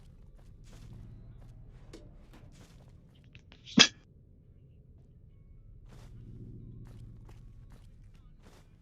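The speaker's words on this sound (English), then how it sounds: "Had to sneeze." A single brief, sharp sneeze from a person playing Fallout: New Vegas stands out against a quiet background of faint rumbling and soft footsteps.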